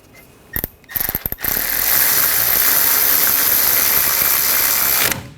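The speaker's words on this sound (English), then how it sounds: "Tighten the bolts down." Ratchet tightening the brake caliper bracket bolts on a Nissan Rogue, several quick clicking bursts at the start, then a steady loud, dense mechanical rattle that runs close up for about four seconds before stopping.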